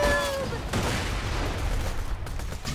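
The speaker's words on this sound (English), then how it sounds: "let's blow them up with grenades" Grenade explosions and gunfire from the video game Borderlands 2 come as a dense burst of shots and blasts after a brief electronic tone, with a player's voice in the mix.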